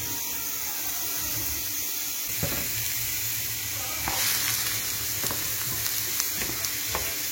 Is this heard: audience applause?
no